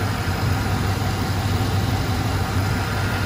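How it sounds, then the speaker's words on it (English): The engine of a lifted 1995 Buick Roadmaster runs smoothly at idle, a steady close rumble with no speech over it. "here's the engine. Runs very, very well."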